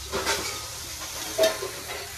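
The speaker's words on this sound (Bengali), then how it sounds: "এটা মাছের তেল দিয়ে বেগুন ভাজা" Eggplant sizzles and crackles in hot fish oil close by, a steady frying hiss with a few louder spits and stirring sounds.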